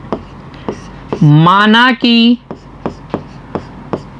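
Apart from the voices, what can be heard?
writing the answer to a maths question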